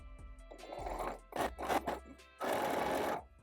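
A sewing machine stitches bias tape around the corner of a quilted placemat, running in several short close bursts and then one longer steady run, with no speech.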